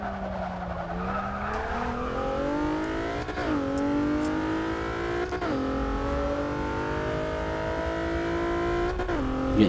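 A 1999 Mitsubishi Lancer Evolution VI GSR in the racing game Forza 6, its engine revving hard through climbing pitch sweeps with sharp drops at each gear shift, loud and continuous.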